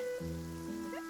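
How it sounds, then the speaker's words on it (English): Rain falling in the video game Genshin Impact, a steady soft patter under tonal music with no voices. "It's raining."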